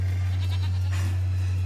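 A sheep in the video game Nier: Replicant gives one short, faint bleat over a steady low electronic hum, with no talking.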